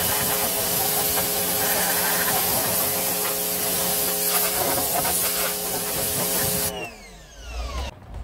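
Parkside PHD 170 B2 high pressure washer spraying with a steady loud hiss and motor drone for most of the clip, then cutting off sharply near the end, leaving a short quieter tail.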